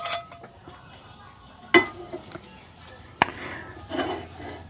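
A non-stick Teflon pan is set out on a home kitchen stove, giving two sharp metallic clanks and a few lighter knocks and scrapes over quiet background noise.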